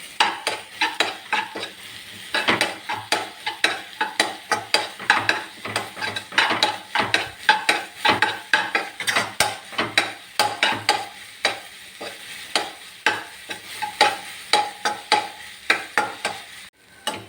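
Egg and green peas podithuval being stirred in a pan, a close, steady run of scraping strokes over a soft sizzle of frying, with utensil clatter against the metal throughout and no voices.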